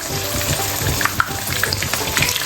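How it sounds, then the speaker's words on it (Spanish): Stuffed potatoes with melting cheese frying in oil in a pan, a steady close sizzle with scattered small pops and crackles running throughout, no voices. "Freímos bien del otro lado, así entra el calor"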